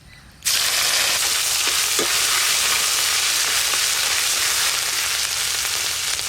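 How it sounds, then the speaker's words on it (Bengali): Ginger and cumin paste drops into hot oil and bursts into a sudden loud sizzle that then holds steady and close, with faint stirring taps underneath. "এবার দেব আদা জিরে বাটা,"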